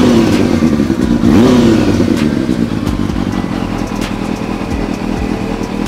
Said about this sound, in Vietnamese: Tiếng máy rất là đã, cái động cơ Super Jack đó kìa.